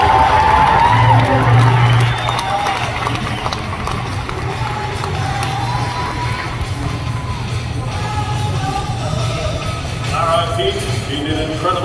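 A rodeo crowd at the Calgary Stampede cheers and yells after a ride, a broad steady roar with an announcer talking over it throughout.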